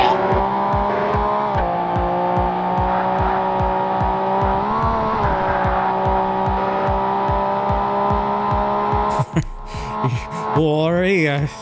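Race cars in Forza Motorsport (2005) roar steadily with droning engines and rhythmic pulsing throughout, then near the end the engine notes rise and fall sharply with revving and shifting while a voice talks over the racing.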